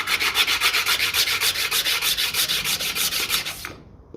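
Rapid, steady back-and-forth rubbing on greasy throttle body parts from a 1954 Ferguson 20 TEF tractor, close and loud with an even scrubbing rhythm, stopping abruptly near the end.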